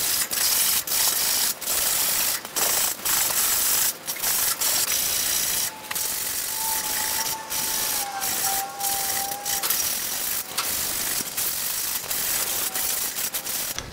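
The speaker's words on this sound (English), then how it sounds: "I'm gonna buff that down a little bit, clean it up." A lawn mower wheel part from a self-propelled mower being buffed by hand, giving a steady close rubbing and scrubbing hiss broken by short gaps and clicks, with a faint squeaky tone in the middle.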